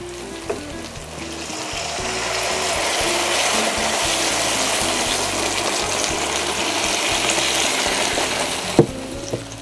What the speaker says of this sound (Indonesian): dan sekarang saya akan tambahkan air ya